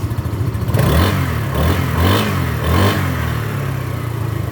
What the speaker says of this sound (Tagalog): Narinig niyo mga kapatid yung ating Griffin 180.